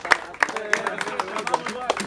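Applause from a crowd at a freestyle rap battle in Santa Fe, greeting a rapper: sharp hand claps come in a quick uneven run for about two seconds, with a voice shouting over them.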